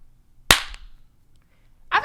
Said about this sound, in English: I feel like your claps would be too loud because you can't even hear mine.